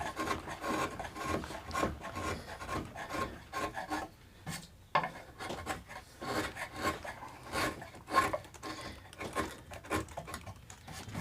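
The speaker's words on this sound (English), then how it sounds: "Finished with the rasp." A rasp files the wood of a guitar body being built from an old workbench, in repeated rough rubbing strokes with brief pauses between them, close and fairly loud.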